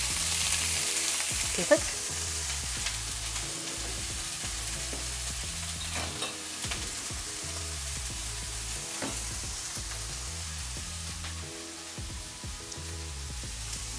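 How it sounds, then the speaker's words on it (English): Broccoli sautéing in hot oil for a chicken and broccoli dish, a steady continuous sizzle and crackle with occasional stirring clatter throughout; one brief spoken word. "that oil is now sufficiently hot to go broccoli moding"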